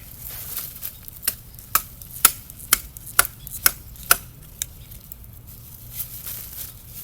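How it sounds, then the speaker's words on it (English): Garden soil being turned over by hand among fallen leaves and old vegetable remains, giving a run of sharp, crisp crunches and rustles spaced irregularly, close and fairly loud, with no talking. "So I just want to turn over my soil a little bit"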